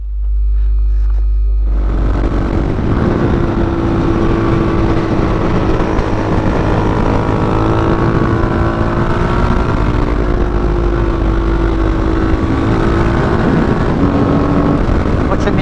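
Motorcycle ridden without a clutch on a hot day, its engine droning loud and steady with rising and falling revs and shifting pitch, heavy wind roar over the microphone throughout.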